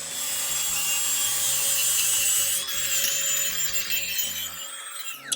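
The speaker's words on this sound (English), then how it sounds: "I'm going to clean this up quick with the sanding disc" A sanding disc grinds continuously against a steel steering-link part in a workshop, a steady loud abrasive rasp with a high ringing whine that shifts in pitch as pressure changes, then stops at the end, with no talk.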